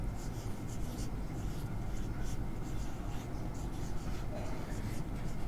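Writing on a board, with steady scratchy strokes up close over a constant background hum and no clear talk.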